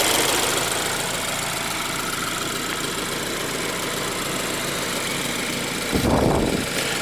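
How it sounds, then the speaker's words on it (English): Turbocharged four-cylinder engine of a 2015 BMW 328i Luxury Line running steadily as a constant broad hum, with a brief louder rumble near the end and no talk. "this engine was made to replace the outgoing 3-liter inline 6-cylinder from the earlier 3 Series"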